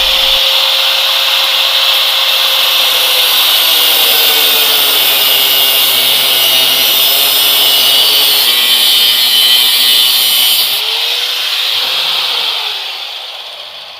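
Angle grinder fitted with a 4.5-inch cutoff wheel slicing through metal conduit, a loud, sustained high-pitched grinding screech lasting over ten seconds before winding down at the end.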